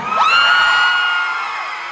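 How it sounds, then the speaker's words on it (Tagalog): A concert crowd shouting and cheering, a loud burst of high screams and whoops that rises quickly and then holds and slowly fades. "Kailangan malakas yung sigawan."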